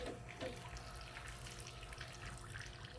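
A lawn sprinkler sprays and splashes water steadily in a soft continuous hiss, fairly faint and without voices.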